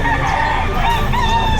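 A rooster crows loudly and close at a weekend chicken market in Lipa, Batangas, its drawn-out call running through the whole moment with some clucking behind it.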